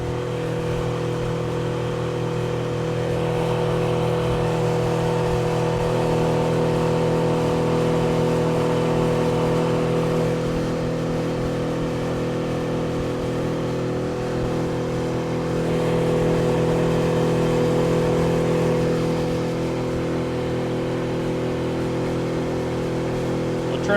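A 2024 Suzuki DF25A outboard motor is running during break-in on a boat moving through chop, holding a steady, close, continuous drone at cruising speed with slight swells in loudness and no talking.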